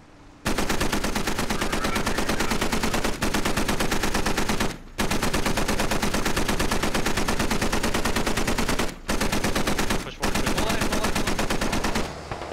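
Sustained suppressive automatic gunfire in the military shooter game Squad, loud and close, continuous bursts running almost the whole time with only a few brief pauses.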